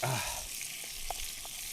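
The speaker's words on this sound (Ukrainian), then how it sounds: "Ну і ще пару хвилин отак ось смажимо." A pan of onions and tomatoes sizzles steadily with a soft hiss outdoors on a hill, brief clinks of a utensil stirring, no voices.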